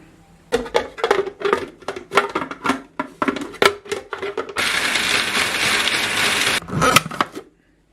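A kitchen appliance, likely a food processor, runs steadily in a sustained loud whir while crushing biscuits for a cheesecake base, after a stretch of knocking and clattering.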